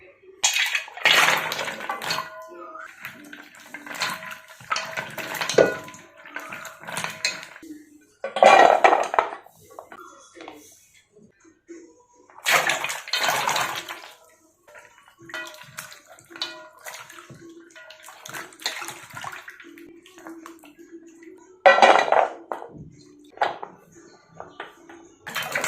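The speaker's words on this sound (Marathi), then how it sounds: "ते 4 पाण्याने आपण स्वच्छ धुवून घेणार आहोत" Fresh turmeric washed by hand in several changes of water in a metal vessel: bursts of sloshing and splashing with clinks of the pot, separated by short quiet pauses.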